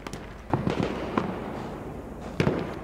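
Weapon fire from the video game Battlefield 1, heard as a few sharp, separate cracks set against steady background noise at moderate loudness, with no talk.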